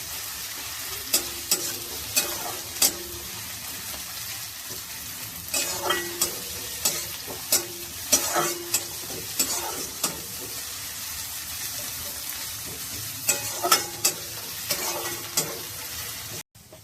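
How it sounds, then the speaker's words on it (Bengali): Spices frying for a Bengali cauliflower and egg curry, a steady sizzle with repeated scraping stirs of a spatula against the pan at irregular intervals, close and moderately loud, with no talking. "মশলার কাঁচা গন্ধটা যতক্ষণ চলে না যায় ততক্ষণ ভেজে নিতে হবে।"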